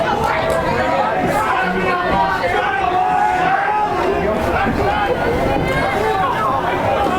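A high school boys lacrosse playoff crowd buzzes with chatter and cheers throughout, a dense, steady babble of many voices at moderate distance.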